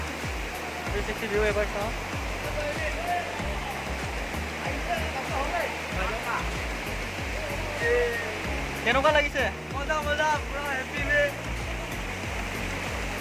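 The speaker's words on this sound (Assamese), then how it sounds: "পালোহি পিছফালে এয়াই হৈছে ৱাটাৰফল" A waterfall in Dhemaji roars as a constant close rush of falling water, a steady broad hiss that runs under someone talking excitedly throughout.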